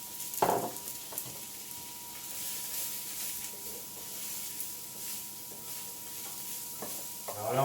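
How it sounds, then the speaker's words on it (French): Onions sautéing in a pan with bacon lardons for a bolognaise sauce, giving a steady close sizzle broken by scraping stirs, with a louder clatter near the start and again at the end. "Et puis on va faire revenir nos oignons"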